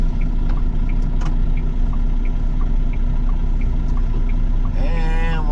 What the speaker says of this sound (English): we let off the throttle and we'll just coast our way up to the intersection